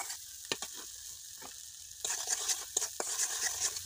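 Spices with salt and turmeric frying in a pan for an egg and potato fritter curry, a soft sizzle broken by scraping stirs that turns louder and hissier halfway through.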